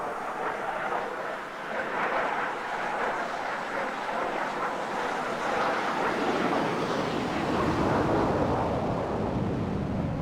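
A MilViz F-86 Sabre jet in the FSX flight simulator makes a steady, loud, broadband roar as it passes by. The rushing noise swells gradually and holds for about ten seconds with no talk over it.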